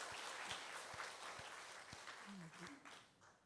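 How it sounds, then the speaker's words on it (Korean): Korean church congregation applauding the praise team and choir, a soft, distant patter of clapping with a few sharper individual claps, and a voice briefly speaking near the end. "우리 박수로 한번 더 감사하겠습니다."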